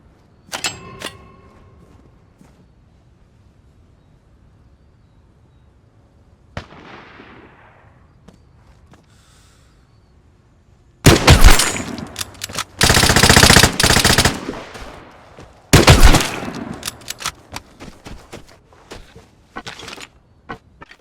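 Bursts of full-auto Bugle rifle fire in the game Vigor, a quiet stretch with a faint single shot, then two long loud rattling volleys close together, followed by scattered softer shots trailing off.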